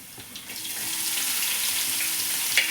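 Sliced onion going into a hot pan with ginger and green chilli, sending up a steady broadband sizzle that swells slightly, with a few faint clinks and no voices.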